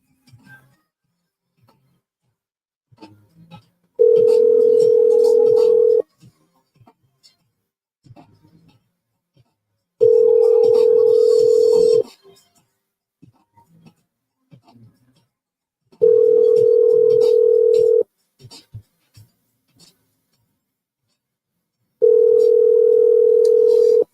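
Outgoing telephone call ringback tone: four steady electronic tone bursts about two seconds long, spaced several seconds apart, loud and clear, with faint background noise between them.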